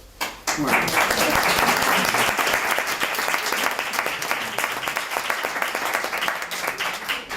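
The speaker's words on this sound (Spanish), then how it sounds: "antes pediros un aplauso pues para los presentadores de hoy" Sustained applause from an indoor audience, steady dense clapping that starts abruptly and continues throughout.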